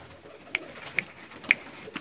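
Domestic pigeons call faintly, giving four short, evenly spaced notes about half a second apart over quiet background hiss.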